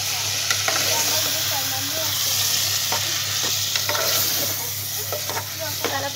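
Potato and tomato curry stirred in a hot pan in a village kitchen: a loud, steady sizzle with frequent scraping and clattering strokes of a spoon, close and continuous.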